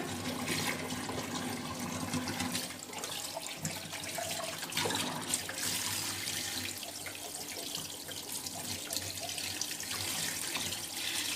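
A kitchen faucet runs steadily while a whole chicken is rinsed and cleaned under the stream, a continuous soft splashing wash with slight shifts as hands move through the water.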